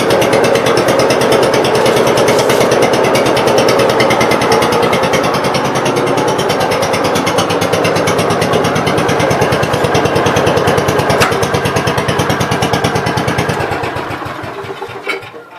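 A small engine on an Ingersoll garden tractor runs loud and close indoors, a fast steady chugging beat that holds for a long stretch, then winds down as it shuts off.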